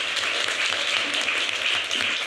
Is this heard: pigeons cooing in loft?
no